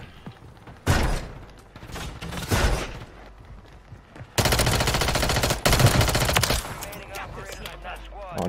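Video game gunfire in several bursts, with rapid automatic fire and single shots, loud and close, under players talking.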